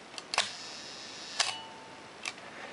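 A Nikkormat FTN film camera's mechanical shutter fires at its one-second speed: a crisp opening click, a second close click about a second later, then another sharp snap, all near and distinct against a quiet background.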